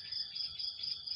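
Crickets chirp in the early morning in a steady pulsing trill of rapid repeated bursts, fairly faint and continuous, with no voices.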